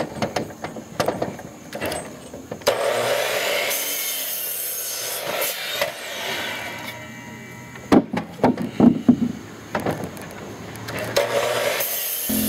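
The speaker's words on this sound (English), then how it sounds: "Cut some 16-inch blocks." A saw cuts 16-inch wooden blocks while a shack's walls are framed. Close rasping strokes come in bursts, with irregular knocks and handling clatter between cuts.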